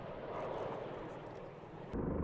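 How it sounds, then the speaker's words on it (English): An Osprey tiltrotor aircraft on training flights at the Saga base in Japan gives a steady, broad roar, loud and continuous, with the engine noise rising again near the end. "The Osprey can fly at about 500 kilometers per hour,"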